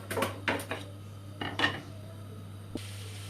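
Several clattering knocks and scrapes of carrots dropping into a metal pan, a quick burst, then a lone clink, over a low steady hum.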